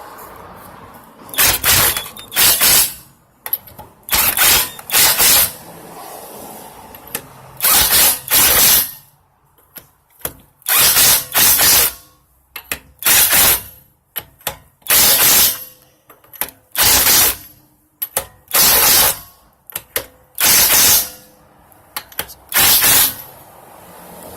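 An impact wrench tightens the lug nuts on a 2017 Jeep Cherokee during a tire rotation, firing in loud, close, rattling hammering bursts of one to two seconds. Short quiet gaps separate the bursts, and the pattern repeats many times. No one speaks.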